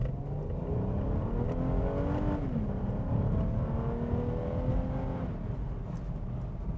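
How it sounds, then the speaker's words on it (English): A car's engine under hard full-throttle acceleration in a used-car test drive, a steady loud drone with rising harmonics that climb, dip at an apparent shift, and climb again, continuous throughout. "I'm going to accelerate as hard as the car will accelerate"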